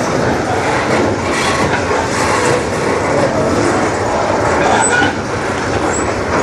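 A train rolls past on the Strathroy Subdivision, a loud, continuous roar of wheels and cars with rhythmic clatter and a couple of thin squeals near the end, no voices.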